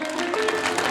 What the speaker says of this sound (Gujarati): એ બંને માટે એકવાર જોરદાર તાળી થઈ જાય